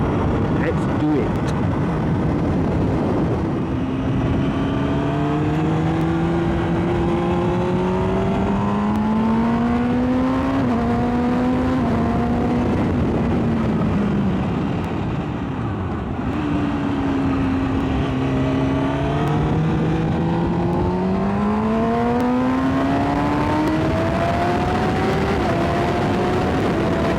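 A Kawasaki ZX6R motorcycle engine at Brands Hatch hums steadily through the gears at moderate revs, its pitch rising and falling with each change, loud and continuous under wind noise throughout.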